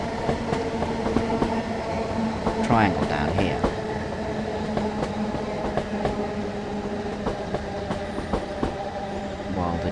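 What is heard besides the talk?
8F steam locomotive train running, from video game Train Sim World 5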